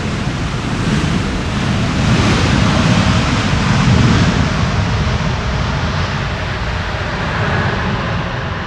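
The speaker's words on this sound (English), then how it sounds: "Nicely using the reverser there." Airliner landing at Amsterdam Schiphol in a crosswind, with thrust reversers deployed: a loud, broad, sustained roar that swells in the middle and then holds steady throughout, with no voices.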